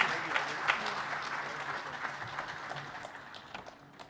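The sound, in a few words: applause for the Deputy President taking the stage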